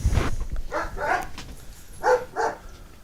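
A dog barks at a person at the door, giving two short pairs of sharp, fairly close barks with a pause between them and no talking over them.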